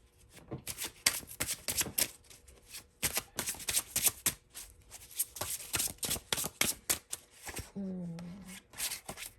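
Tarot cards shuffled up close in a quick, busy series of crisp riffles and slaps, with a brief faint murmur of a voice near the end.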